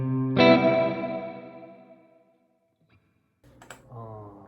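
A guitar played through the spring reverb effect of an M-VAVE MK300 multi-effects unit rings out as one strummed chord with a long decaying tail, then silence, then faint clicks and a softer note.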